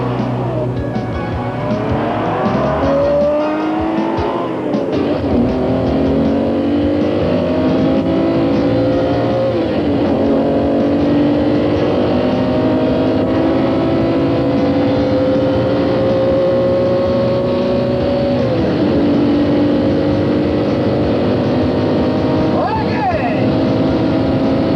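A classic race car at sustained high speed on an open highway during the Silver State Classic road race, its engine droning loud and steady with rising and falling pitch through gear changes, and a voice talking faintly underneath.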